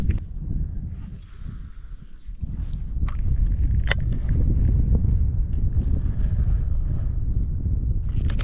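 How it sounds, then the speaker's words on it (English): Strong wind buffets a fishing boat out in a marsh, a loud steady roar rumbling across the microphone, with a few faint knocks and clicks from the boat underneath. "That wind right there, though, that's gonna make me go home."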